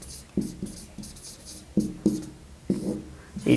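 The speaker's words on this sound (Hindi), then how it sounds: "स्वाभिमान तो हो गया है, आगे लिखते हैं।" Writing on a board during an ethics class, heard as a run of short, scratchy strokes in uneven bursts, close and fairly clear, with no voices.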